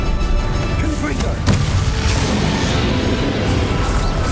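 Confringo blast spell explosion during a Hogwarts Legacy video game battle, a loud boom with a sharp crack near the middle, followed by rolling rumble and scattered impacts.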